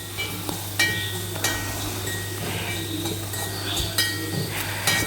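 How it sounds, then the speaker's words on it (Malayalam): Okra curry with a pinch of turmeric powder being stirred in a pan, with repeated light clinks and scrapes of the spoon against the metal over a steady low hum, no talking. "നന്നായിട്ടൊന്ന് ഇളക്കാം"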